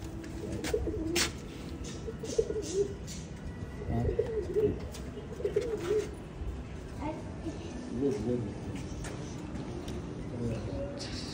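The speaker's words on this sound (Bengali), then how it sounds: "এই যে কবুতর, এই যে কবুতর, এই যে কবুতর, কবুতর আছে।" Pigeons kept in a home garden coo repeatedly in low, rolling phrases at moderate distance, with a person talking softly in between.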